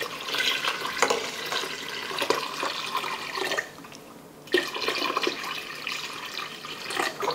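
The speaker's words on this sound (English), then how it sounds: "And then we're gonna add our water." About half a gallon of water pours into a pot for a ham brine concentrate, a steady close splashing stream that pauses briefly midway before resuming.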